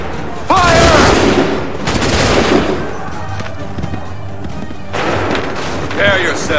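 Musket volleys in Assassin's Creed 3, loud ragged bursts of massed gunfire crashing out in two waves with a lull between, shouted commands and battle chatter mixed in.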